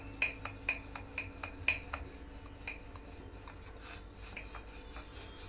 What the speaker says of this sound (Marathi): आणि फोल्ड झाल्यानंतर आता आपण इथे लाटून घेणार आहोत।